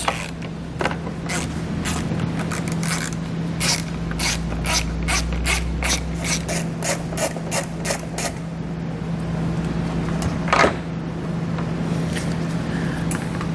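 A hand ratchet backing out 10mm screws from the tail light of a 2022 Subaru Forester: a steady, close run of quick clicking pawl strokes with light scraping and a low background hum.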